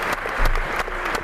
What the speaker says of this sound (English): all the audience applauding in the back